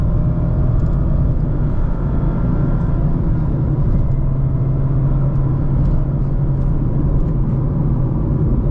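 A 2024 Mazda MX-5 RF Grand Touring with 181 horsepower, floored up to its 7,000 rpm redline in third gear, produces a steady, loud engine roar with a deep rumble that holds throughout.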